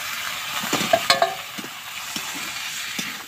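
Fish pieces frying in thick spiced masala in a pan give a steady soft sizzle, with a few sharp spatula scrapes and clinks near the start and scattered stirring taps throughout, no voices.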